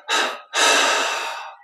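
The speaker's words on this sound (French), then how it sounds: "On expire en 3 fois." Deep breath let out in separate audible exhalations during a guided Yogoda energization meditation, close and clear with a short breath followed by a longer, fading one, with no talking.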